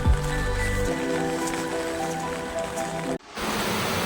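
Steady monsoon rain falls on surfaces in Assam, an even hiss close and constant throughout, with a brief dropout near the end; no voices.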